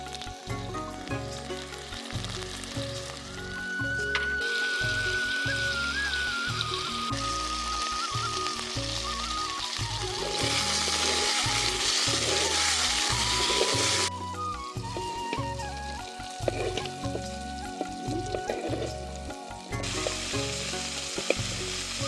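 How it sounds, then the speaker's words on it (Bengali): Mixed vegetables sizzle steadily as they fry with salt in a pan for a Bengali sabji, a close, continuous crackle with occasional stirring scrapes and no talk. "একটু লবণ দিয়ে ভেজে নেব"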